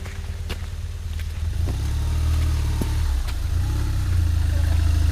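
BMW 1200 GS motorcycle on a muddy trail, a close engine drone that rises and falls with throttle, with a few sharp clicks and knocks over the steady low rumble.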